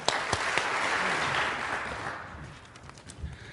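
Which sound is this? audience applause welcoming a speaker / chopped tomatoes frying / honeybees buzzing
audience applause welcoming a speaker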